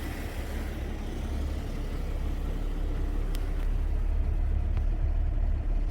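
A Jeep Grand Cherokee 4.0 engine with an overheating fault and suspected blown head gasket runs at a steady idle, a continuous low rumble heard close up with a couple of faint clicks and no talk.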